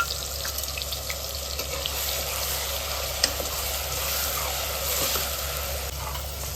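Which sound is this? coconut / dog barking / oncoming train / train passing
coconut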